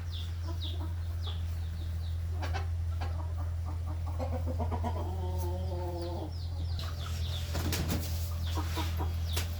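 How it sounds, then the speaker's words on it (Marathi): Desi hens and a rooster in a backyard shed cluck and call repeatedly, with one longer drawn-out call in the middle, all over a steady low mechanical hum. "बघा देशी कोंबड्या, काय कोंबडा आहेत यात."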